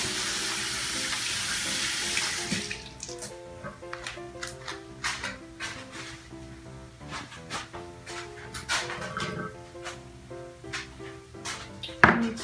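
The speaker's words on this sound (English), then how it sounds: "Wash my hands." Tap water runs into a kitchen sink during hand washing, a steady close splash with scattered clinks and knocks over it.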